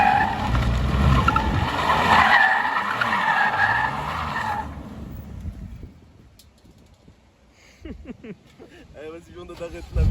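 BMW M2 Competition drifting, its tires letting out a loud, sustained squeal for several seconds before the noise drops away, with people talking throughout.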